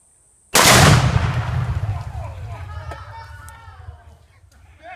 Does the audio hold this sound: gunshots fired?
yes